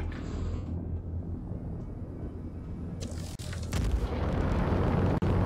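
A torpedo is shot down in the space game Star Citizen, giving a rumbling explosion over steady ship noise, with a louder burst and a sharp pop toward the end.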